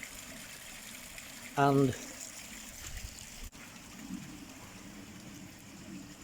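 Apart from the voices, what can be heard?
water gushing out of pond filter outlets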